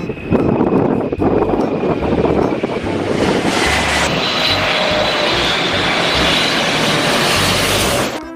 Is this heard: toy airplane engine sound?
yes